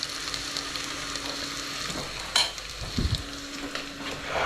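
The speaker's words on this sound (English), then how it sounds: "And I'm going to cook, pan fry it basically on medium heat as well." Chicken pan-frying over medium heat gives a continuous close sizzle, joined by a couple of sharper clatters as the pan or utensil is moved, no voices.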